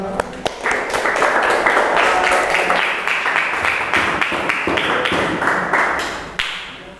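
A classroom audience claps after a group's class presentation. The dense, steady patter lasts several seconds before tapering off, and a voice can be heard briefly near the start.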